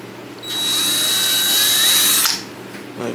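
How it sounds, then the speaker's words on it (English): A power drill whines steadily while boring holes to mount a cheap lip kit on a car, one continuous run of about two seconds that starts and stops sharply, close and loud with no talking. "now we're gonna drill the holes"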